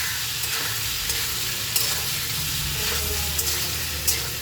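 Ridge gourd and potato being stirred in spice paste in a wok, a steady broad sizzle with occasional soft scrape clicks of the spatula, close and even throughout.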